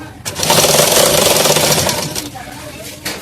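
A sewing machine runs a loose basting stitch on a cross-cut blouse, a loud close whirring burst lasting about two seconds that then stops, with a brief restart at the end.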